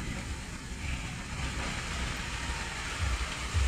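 Steady rain falling in a continuous, fairly loud hiss with a low rumble that swells near the end; no voices.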